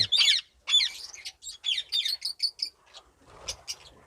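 Caged parrots at a bird farm in Pakistan let out a quick series of loud, close squawks and shrill chirps in bursts, ending with a few fainter calls and some light rustling.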